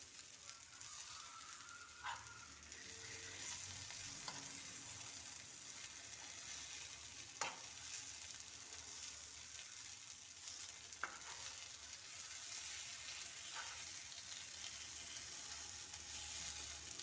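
Egg roast masala frying in a pan on a low flame, a faint steady sizzle with occasional soft scrapes and taps as a spoon stirs the eggs through the thick masala.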